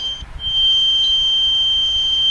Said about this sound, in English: It's a carbon monoxide alarm.